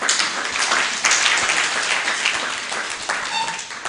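A dense wash of hand clapping rises from a youth conference audience, loud and sustained throughout with no voices.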